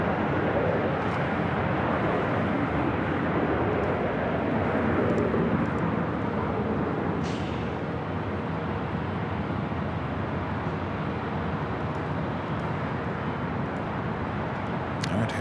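A United airliner takes off from the north side runway at LAX, its jet engines giving a loud, steady, broadband roar that holds for the whole stretch without talk.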